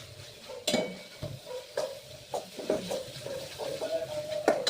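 Masala sizzles in oil in a pan while a spoon stirs it for soya chunk curry, soft continuous frying hiss broken by close, irregular scrapes and knocks of the spoon against the pan.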